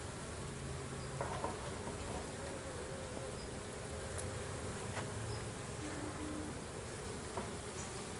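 Honeybees hum and buzz steadily around an opened beehive, a dense, continuous drone from many insects close by with no talk.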